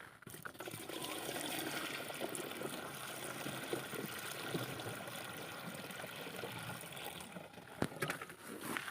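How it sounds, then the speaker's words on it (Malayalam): Water pouring steadily into a 20-litre pesticide sprayer tank, a continuous rushing, trickling flow close by that runs unbroken for the whole stretch with no talk over it. "ഇനി നമ്മൾ വെള്ളം ഒഴിക്കുക."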